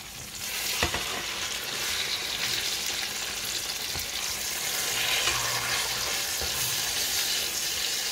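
Pork chops fry in a pan, a loud, continuous hissing sizzle with a couple of clicks near the start, steady and close throughout.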